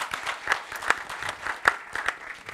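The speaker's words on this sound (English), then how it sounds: "we can just give them a round of applause to begin with" A panel-discussion audience applauds, with dense, steady clapping from a moderate-sized crowd and a few sharper individual claps standing out.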